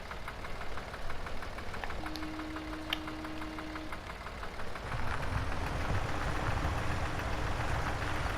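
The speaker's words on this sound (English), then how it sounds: "I do love this tractor, it makes such a great noise." A tractor engine in Farming Simulator 17 chugs with a steady knocking idle, then revs up louder and rougher partway through; a brief tone sounds early on.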